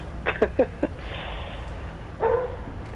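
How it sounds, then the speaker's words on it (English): A dog barks several times in quick succession, a few sharp yips in close, moderately loud bursts, followed by a longer whine or bark near the end, heard indoors during a gaming group conference call. "Excuse the barking dog."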